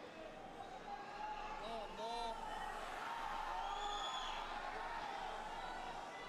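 Crowd at a 2005 weightlifting clean-and-jerk contest between Chigishev and Reza, a faint, steady murmur with scattered whoops and shouts drifting in the distance while a commentator talks over it.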